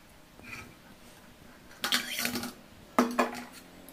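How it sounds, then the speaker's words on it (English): A large plate is handled in a kitchen, with two bursts of clattering dish and metal contact against a quiet background, the first around the middle and a sharper one near the end. "Take a big size plate"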